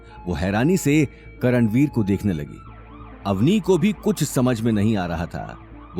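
A police siren wails faintly outside a door in a dramatized scene, sitting low beneath a steady narrating voice that talks throughout.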